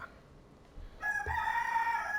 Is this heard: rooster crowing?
yes